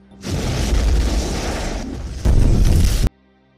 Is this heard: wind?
no